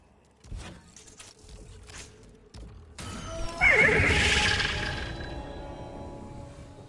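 A few clip-clopping hoof sounds, then a loud, high horse whinny rises and fades with a game-like, slightly synthetic quality.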